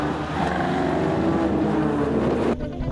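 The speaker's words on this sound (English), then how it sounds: "Guy Bull and his flame-spitting Morris down the main straight into turn 1" The engine of Guy Bull's flame-spitting Morris racing car runs down the main straight toward turn 1 at a road racing championship, a loud, sustained drone with rising pitch and wind buffeting, cutting off abruptly near the end.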